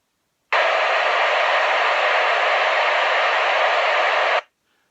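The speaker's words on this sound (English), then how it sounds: "So if you turn the squelch all the way down, you're going to hear a lot of noise." Loud, steady static hiss from a handheld radio scanner with the squelch turned fully down bursts on, holds for about four seconds, then cuts off abruptly into silence.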